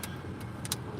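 A parked car's engine idles as a faint, steady low hum inside the cabin, with a few light ticks and clicks over it and no talking.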